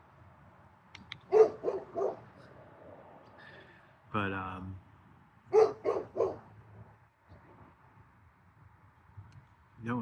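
A dog barks indoors in two quick clusters of sharp, fairly close barks, with someone speaking briefly between them.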